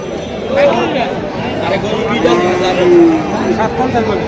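A Sindhi heifer calf moos loudly and close by at a busy cattle market in Chandimura, Cumilla. Its drawn-out calls stand above a babble of traders talking in the background.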